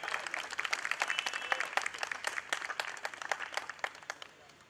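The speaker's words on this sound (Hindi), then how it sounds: "और जरा जोर से ताली बजाएं।" An indoor audience at a Delhi University student union alumni event honouring Delhi's three mayors claps steadily, a dense patter of many hands that slowly fades toward the end, with some voices mixed in.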